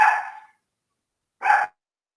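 A dog barks twice near a classroom during a law lecture. The two short, sharp barks are separated by more than a second of silence.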